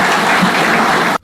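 Applause at an investment and trade forum in Bissau: a steady, dense wash of clapping from a crowd, loud and continuous for about a second before cutting off abruptly.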